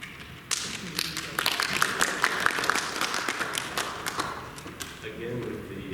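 Scattered clapping from a small audience at a meeting, irregular sharp hand claps that thin out toward the end, moderately close and mixed with low murmuring and talk.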